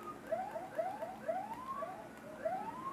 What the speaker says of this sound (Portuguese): o R3 ativa o efeito sonoro da sirene, mano, da polícia